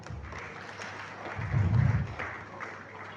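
Faint applause from an audience at a professional investiture ceremony in Lagos, a soft, brief patter of clapping that swells for a moment and fades, set back in a reverberant hall.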